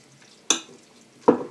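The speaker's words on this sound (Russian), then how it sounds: "вот я еще пожарила луковицу и выкладываю." Fried onion stirred in a pan: two separate sharp scraping clatters of a utensil against the pan, close by, over a faint background.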